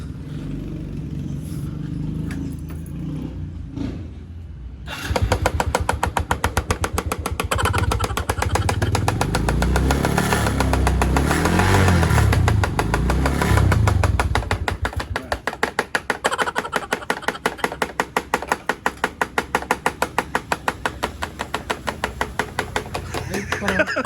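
A motorcycle engine starts up after a few seconds of quieter background and idles close by with a fast, repetitive ticking knock running through its steady rumble.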